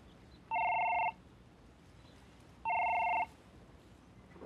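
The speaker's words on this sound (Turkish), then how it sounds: "Telefon çalıyor, açsana." A telephone rings in two separate bursts, each about half a second long, with a bright electronic double-tone against a quiet background.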